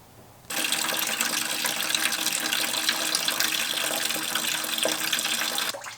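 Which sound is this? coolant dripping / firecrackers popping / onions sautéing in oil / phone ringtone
coolant dripping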